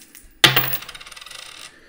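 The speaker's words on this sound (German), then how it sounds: "Ich nehme meine 3 Münzen, werfe" Three coins tossed for I Ching divination land with a sharp clatter, then rattle and spin with quick ringing bounces that fade over about a second; close and alone, no voices.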